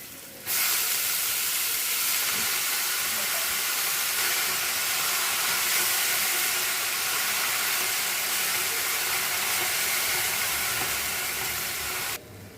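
Red amaranth greens dropped into a hot tempering in a home kitchen give a loud, steady sizzle and hiss that holds almost unchanged for about twelve seconds, with no talking.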